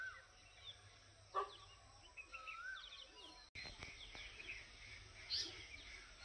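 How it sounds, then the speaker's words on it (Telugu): Birds call and chirp faintly outdoors among trees on farmland in Himachal Pradesh, with a few brief, thin calls scattered over a quiet background hum and no talking. "పక్షులు సౌండ్స్."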